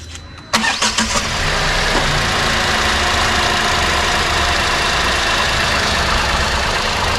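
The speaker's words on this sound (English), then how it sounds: "Now we'll start the car and check any noticeable difference or not." A Tata Altroz engine with new NGK spark plugs cranks briefly and catches, then settles into a steady, close idle that runs on without a break.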